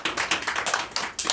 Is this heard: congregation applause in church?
yes